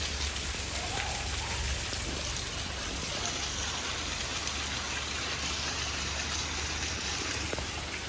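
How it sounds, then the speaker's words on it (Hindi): Heavy rain pours steadily on a rooftop during a downpour, a dense, continuous hiss with pattering drops, close and loud throughout with no voices. "बारिश फिर तेज हो गई है।"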